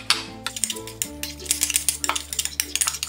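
Mustard sauce and tomato ketchup being mixed in a bowl with a spoon, a run of quick scraping clinks in a steady rhythm, close by, over a low background hum.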